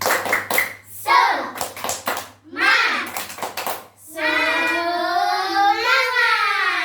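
A primary-school class of children performs the rhythmic "tepuk semangat" clapping chant, with sharp patterned hand claps alternating with sung or chanted voices, loud and close in a classroom.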